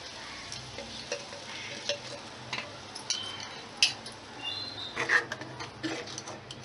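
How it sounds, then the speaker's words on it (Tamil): A ground paste is stirred into a boiling tamarind curry of brinjal in a pan, producing close sizzling and bubbling with repeated scraping stirs and light utensil clicks, no voices. "இப்போது நம்ம அரைச்சி வச்சுருக்கிற இந்த விழுது அதில் சேர்த்தலாம்"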